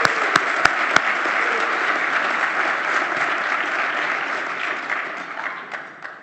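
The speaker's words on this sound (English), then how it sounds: "Please give them a round of applause." Sustained applause from a luncheon audience, a few sharp close claps standing out at the start before the broad, even clapping fades gradually toward the end.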